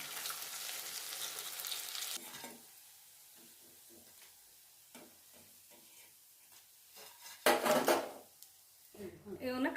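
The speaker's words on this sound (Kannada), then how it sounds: "ಸ್ವಲ್ಪ ಗೋಲ್ಡನ್ ಬ್ರೌನ್ ಆಗೋವರೆಗೂ ಕರಿಬೇಕು." Dahi vada lentil fritters frying in hot oil give a loud, dense sizzle for about two seconds, then quiet spells with faint clinks, a burst of louder sizzling and stirring near the end.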